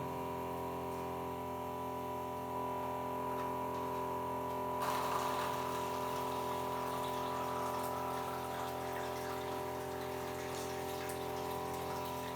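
Constant humming drone from a water ionizer's pump motor with a steady tone, joined midway by a soft rush of flowing water, continuous and even throughout.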